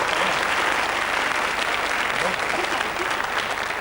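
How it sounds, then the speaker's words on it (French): A studio audience on the TV quiz show Questions pour un champion claps steadily and loudly for several seconds, a dense, even burst of applause with a voice faintly underneath. "Allez, Michel, on l'applaudit."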